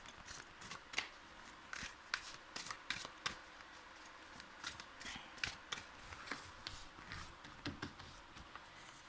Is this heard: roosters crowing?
no